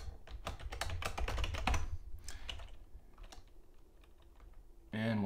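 Typing on a computer keyboard while logging in to Ubuntu 16.04: a quick burst of close keystrokes over a low hum, thinning into scattered taps, then a louder thump at the end.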